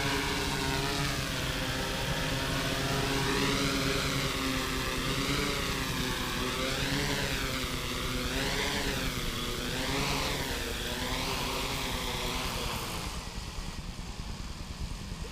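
Propeller aircraft flying down slowly to land, its engine droning steadily with a wavering, rising and falling pitch, fairly near and continuous, then easing off slightly at the end; no talking.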